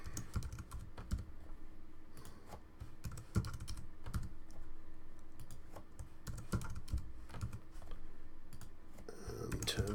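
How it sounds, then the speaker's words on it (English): Steady, close typing on a computer keyboard while working with folders in a class notebook, with rapid clicky keystrokes in continuous runs and brief pauses. "So if I just click on there and type Meg"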